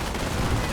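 Machine gun fire from a .30 cal emplacement in the Company of Heroes strategy game, a dense, continuous rattle of rapid shots with battlefield noise filling the short burst.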